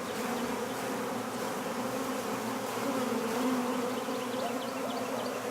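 Honey bees hum in a dense, continuous drone from a crowded, agitated hive being worked, steady and close with no voices.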